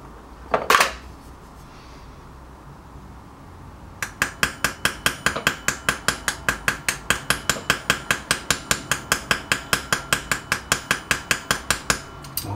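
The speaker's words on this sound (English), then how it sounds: "With the ball peen end, you can actually be very accurate." A ball peen hammer peens the pivot pin of a straight razor. One sharp strike comes first, then after a pause a long, steady run of about thirty quick, close metallic taps.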